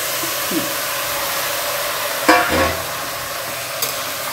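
Mutton sautés in masala inside a pressure cooker, with a loud, steady sizzle and a brief clatter and scrape of stirring partway through.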